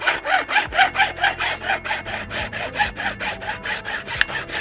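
OneUp carbon mountain bike handlebar being cut with a hand saw, a quick steady back-and-forth rasping stroke repeated about five times a second, close and loud with no talk.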